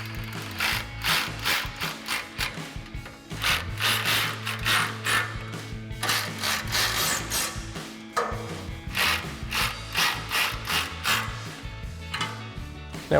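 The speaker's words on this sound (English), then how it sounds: "we can tighten them down with our 4mm Allen socket and our 10mm wrench" A ratchet with a 4mm Allen socket and a 10mm wrench tighten bolts on a Silverado 2500 HD rear bumper, producing rapid close clicking bursts in repeated strokes with short pauses between turns.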